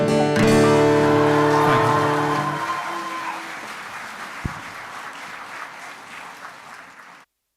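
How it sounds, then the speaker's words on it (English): Applause swells briefly over a fading musical chord, then settles into steady clapping that gradually thins out before stopping abruptly. "I request a bigger round of applause."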